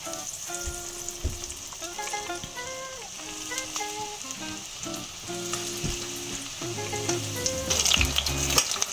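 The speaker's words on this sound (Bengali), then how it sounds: "কড়াইতে তেল দিয়ে দিয়েছি, তেল গরম হয়ে গেছে। এবার আমি তেলে সব একটা একটা করে ছেড়ে দেব।" Potato lollipops frying in hot oil in a wok, a steady close sizzle and crackle that swells louder toward the end, with occasional stirring clinks and no talk.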